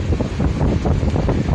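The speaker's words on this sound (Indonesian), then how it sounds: "Kencang sekali anginnya." Strong storm wind roars steadily across a beach at Parupuk Tabing, Padang, with big waves crashing in; the gusts batter the microphone in a loud, unbroken rumble with no talking.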